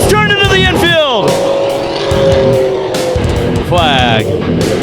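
Race car spinning out after contacting the wall in a short-track wreck: loud, rising and falling tire squeals and skidding over roaring engines, with an excited commentator shouting throughout.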